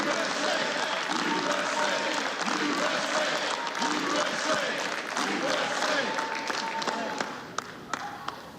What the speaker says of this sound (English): Clap it up, folks. Clap it up.